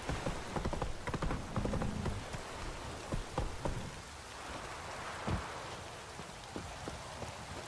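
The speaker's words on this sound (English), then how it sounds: "This downpour's a bastard" Steady heavy rain in a video game hisses across the whole span, with scattered sharp drops and faint hoof clops of a horse underneath.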